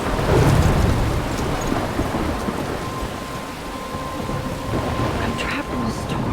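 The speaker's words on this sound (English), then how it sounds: "I'm trapped in a storm?" Thunderstorm in the Life is Strange video game: heavy rain pours continuously with rumbling thunder, loud and enveloping, while a voice speaks briefly over it.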